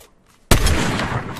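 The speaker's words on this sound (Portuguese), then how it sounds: "Pior que eu tô acertando muito a bala de sniper." A sniper rifle fires in Fortnite, one sudden loud crack after a near-silent moment, followed by a long rolling echo that fades slowly.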